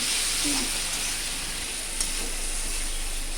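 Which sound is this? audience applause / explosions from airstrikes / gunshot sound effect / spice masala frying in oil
spice masala frying in oil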